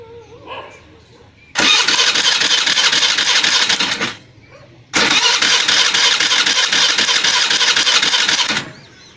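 A new-model Hero Maestro scooter is cranked twice with its key start, each a loud, close burst of several seconds separated by a short pause, with brief talking beforehand.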